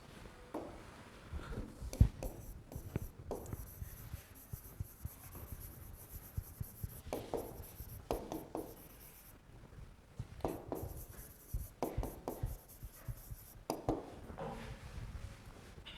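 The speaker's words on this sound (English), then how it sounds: "So maybe write this down." Students in a lecture hall write notes, pens and pencils scratching and rubbing on paper in short irregular bursts, faint and close, with scattered rustles between strokes and no talking.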